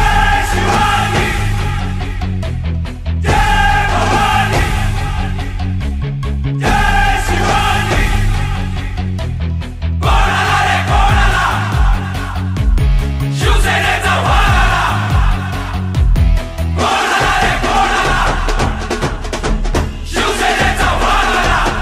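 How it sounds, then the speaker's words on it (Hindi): A huge outdoor crowd at a Shiv Sena nomination rally roars and chants continuously, loud and dense, with rhythmic bursts and shouting throughout and brief dips between surges. "जहां लाखों लोगों की भीड़ देखने को मिली"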